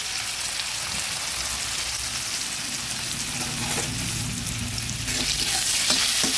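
Banana flower frying in a pan with salt and turmeric, a steady close sizzle and crackle running throughout, with scraping stirs becoming louder toward the end.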